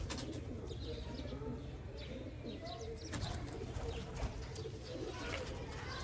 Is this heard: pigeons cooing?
yes